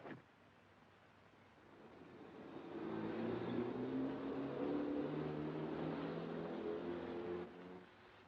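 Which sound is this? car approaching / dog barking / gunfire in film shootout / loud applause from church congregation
car approaching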